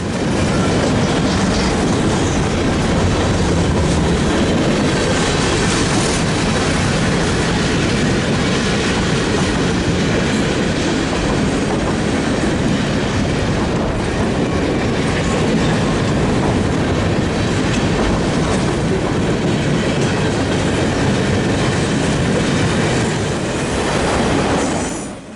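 CN A443, a mixed freight train with a wide variety of freight cars, rolls steadily past close by, its loud continuous rumble and wheel noise broken by faint squeals and rhythmic clicking across rail joints for the whole stretch, with no voices.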